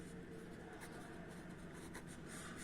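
A pen scratches steadily on paper during a maths lesson, faint quick strokes over a constant background hiss.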